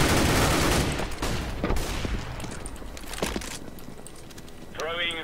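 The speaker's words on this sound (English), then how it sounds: "Throwing a grenade." Explosive blasts and gunfire from a Counter-Strike match, where a grenade is thrown. A heavy burst opens the passage and sharp cracks follow, and a voice speaks briefly near the end.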